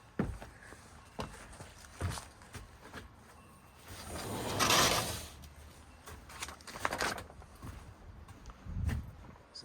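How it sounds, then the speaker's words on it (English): An older sliding door in a house on North Road, Waitsfield, Vermont, is muscled open, giving one loud scraping rumble mid-clip between scattered knocks and footsteps, close and indoors. "gotta muscle that door."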